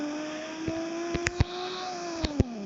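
A car drifts in Roblox with a steady engine drone that rises and falls in pitch and a few sharp clicks and ticks over the top.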